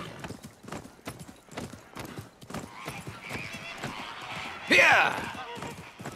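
In the video game Assassin's Creed Mirage, a horse gallops with rapid, rhythmic hoof clip-clops, swelling into a brief loud burst near the end, while people talk over it.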